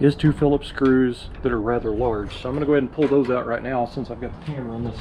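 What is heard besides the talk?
No distinct noise like a dog, phone or traffic.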